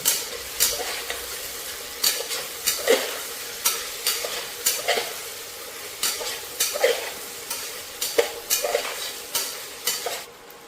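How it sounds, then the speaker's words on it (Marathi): Carrots, capsicum, chillies and peas are stirred in a frying pan, a spatula scraping in about a dozen regular strokes over a continuous close sizzle. "आता हे सर्व आपल्याला व्यवस्थित असं मिक्स करून घ्यायचं आहे."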